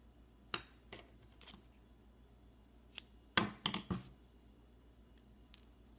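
Scissors snip through a rubber loom band in a handful of brief, crisp clicks, a single cut early on and a quick cluster of snips near the middle, close and quiet, with no voices.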